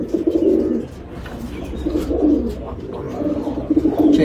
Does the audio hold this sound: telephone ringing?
no